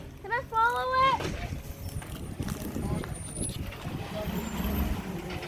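Waste Resources garbage truck, opening with a sharp squealing brake whine, then a rumbling engine and hiss continuing close by while someone talks over it.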